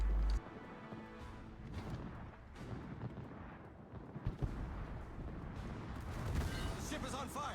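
Main guns of a Soviet T10 battleship, the Kremlin, firing in World of Warships, heavy booming blasts and rumbling over a dense, continuous battle din, loud and sustained.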